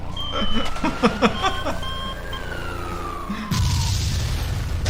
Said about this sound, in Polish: Spoko efekt wybuchu